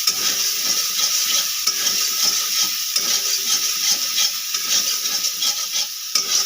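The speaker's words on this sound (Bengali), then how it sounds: "এবার আমি এটা সুন্দর করে ফ্রাই বানিয়ে নেব" Shrimp fry in a pan with chili powder, being prepared as a stuffing for bitter gourd. A steady, close sizzle runs throughout with repeated scraping stirs of a spatula.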